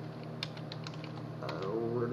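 Quick, light clicks of typing on a computer keyboard sound close over a steady low hum, and a voice joins in near the end.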